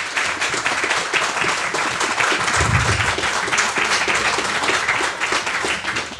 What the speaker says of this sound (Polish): Prosiłbym w takim razie dla wszystkich naszych prelegentów o oklaski i podziękowania.